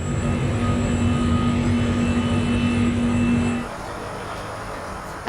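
Steady loud roar of airliner jet engines while the plane waits in a takeoff queue, constant for several seconds, then dropping abruptly to a lower, quieter hum.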